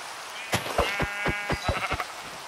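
Several sheep bleat in Minecraft, roughly six or seven short, clear bleats close together over a couple of seconds, with no talking over them.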